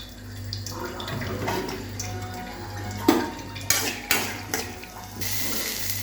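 Curry leaves are stirred in a cooking pan over a soft steady sizzle. A metal spoon clinks and scrapes against the pan in several sharp knocks, close up, with no talk.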